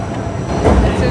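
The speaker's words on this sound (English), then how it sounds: "This is our train. This is going to Newark." PATH subway train bound for Newark at the World Trade Center station, a low rumbling rise of rail noise and station ambience that grows louder toward the end, with a faint voice in the background.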